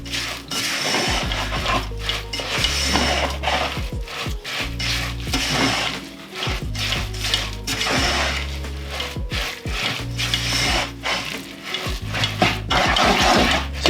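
Oats being stirred into a vegan flapjack mixture of sugar, butter, jam and peanut butter give a steady, close, repetitive scraping and rubbing throughout, with no talking.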